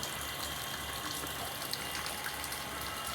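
Water gushes under pressure into a pool, a steady, dense rushing wash that holds constant and close throughout, with no voices.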